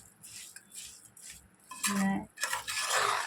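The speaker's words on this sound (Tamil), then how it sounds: "இப்படி அரிசியை மசாலாவில் நல்லா மிக்ஸ் பண்ணி, அரிசியும் மசாலாவும் ஒன்றாயிடணும்." Rice being stirred into tomato masala in a pot for tomato rice, with scraping utensil strokes against the metal that swell into louder, busier stirring in the second half, close and without speech.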